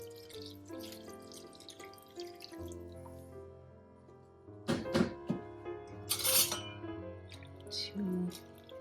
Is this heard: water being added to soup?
yes